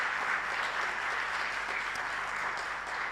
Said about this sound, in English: Shall we give her a round of applause once more?